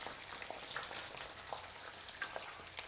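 Eggplants frying in hot oil for a Hyderabadi dum baigan, giving a continuous close hiss and crackle with small scattered pops throughout, no voices.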